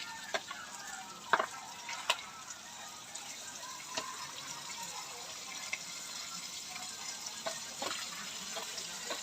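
Meat frying in a little cooking oil in a pan, a steady soft sizzle with scattered pops and small crackles, fairly faint and continuous.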